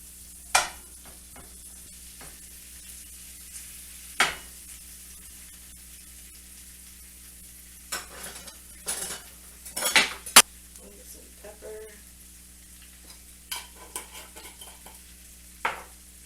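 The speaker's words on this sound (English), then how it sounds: "So we're going to dump our potatoes in. And just break them down just a bit." Potatoes being broken up in a frying pan, with a low sizzle under sparse scraping and clanking of a utensil against the pan, a few sharper knocks clustered near the middle.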